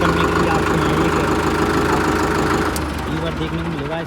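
A Farmtrac 6055 4x4 tractor engine idles loudly with a steady knocking diesel chug, then winds down and changes tone near the end as it is shut off.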